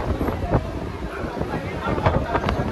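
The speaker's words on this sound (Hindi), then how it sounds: "ये गर्मी वाली हवा चल रही है जिसको हम लोग बोलते हैं लू चल रही है" Hot summer wind (loo) gusting across the microphone in steady rough buffeting, loud and close, with a few brief sharper bursts and no other clear sounds.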